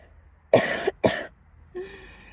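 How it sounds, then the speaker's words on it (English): Two harsh, close coughs in quick succession, followed by a brief rough throat-clearing sound, against a quiet background. "I feel like I have to cough so bad."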